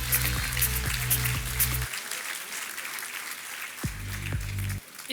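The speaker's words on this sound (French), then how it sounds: "Nous laissons les étudiants regagner leur place sous vos applaudissements chaleureux." Warm applause from a graduation audience for master's degree students returning to their seats, a steady dense clapping throughout, with brief musical tones at the start and again near the end.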